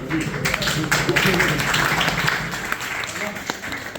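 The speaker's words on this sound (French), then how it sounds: "On applaudit normalement." A crowd at an inauguration event in Aix-en-Provence claps in a steady patter of applause, with voices murmuring underneath.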